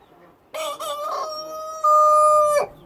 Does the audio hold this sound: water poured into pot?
no